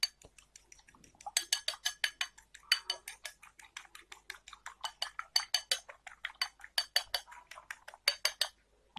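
Eggs being whisked briskly in a bowl for bakwan fritters, a steady run of close, fast metallic clinks and taps against the bowl rim, with no talking.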